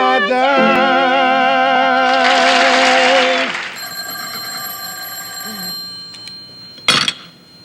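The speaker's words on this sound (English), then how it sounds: "We're getting a phone call." A telephone bell rings loudly in steady bursts, then falls quiet, with a short sharp clatter near the end.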